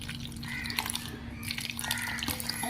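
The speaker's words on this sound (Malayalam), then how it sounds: "വെള്ളം കുറച്ചൊക്കെ ഒഴിച്ചിട്ടുണ്ടേ" Water is poured into a bowl of Amrutham nutrition powder in a home kitchen, a near, light splashing trickle with scattered drips over a low steady hum, and no voices.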